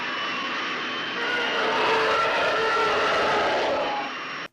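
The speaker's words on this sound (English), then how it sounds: "it is a TIE fighter from the Star Wars films, or any of the fighter jets in the Star Wars movies going off" Star Wars TIE fighter sound effect reused in the film Deathsport: a loud, sustained screaming engine roar that swells after the first second and holds steady for several seconds before cutting off abruptly.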